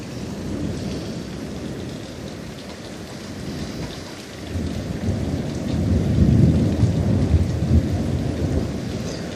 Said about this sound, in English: Rain slowing down again.